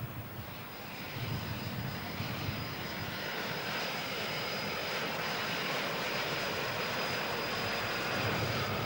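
A mail plane comes in to land, its aircraft engine a steady, fairly loud drone that holds and builds slightly throughout, with no voices.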